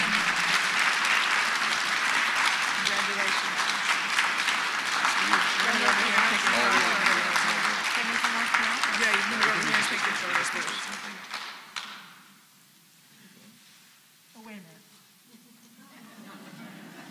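Audience applause at an alumni awards ceremony, a dense, steady crowd clapping that runs for about eleven seconds before fading, followed by a few scattered claps and a voice speaking over the tail.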